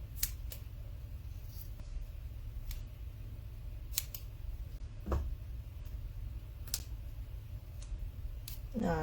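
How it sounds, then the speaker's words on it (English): Sharp, pointy scissors snip through paper for a scrapbook page, a series of crisp, quiet clicks spaced a second or two apart over a faint background hum. "Now, if you haven't used these scissors"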